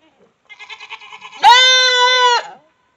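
A goat on a farm bleats loudly in one long, strained, nasal cry of about a second. Just before it comes a quicker run of shorter bleating pulses, and the animal sounds close and clear.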